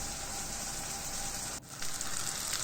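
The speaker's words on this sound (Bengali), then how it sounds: "ভালোভাবে কষিয়ে নেব" Shrimp masala with turmeric, chili, coriander and salt fries in hot oil with a steady, close sizzle, briefly broken by a stir before the hiss resumes.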